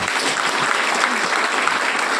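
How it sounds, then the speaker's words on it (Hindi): Congregation applause at a church wedding ceremony, a dense steady wash of many hands clapping together with no gaps, filling the room evenly from start to finish. "परमेश्वर का महिमा के हेतु दिल खोल कर एक बार ताली बजाएंगे"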